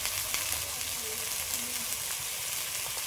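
Okra and potatoes fry with spices, green chilli, salt and turmeric in a pan, a steady dense sizzle hissing evenly throughout at close range with no pauses.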